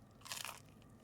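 A crunchy pesto panini with plenty of cheese being bitten into, giving a single crisp, close crunch lasting about a quarter second before quiet returns.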